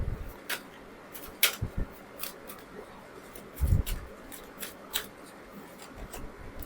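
Tarot cards being shuffled by hand, a run of soft riffling and sliding snaps with a few louder bursts, close and fairly quiet, with no talking.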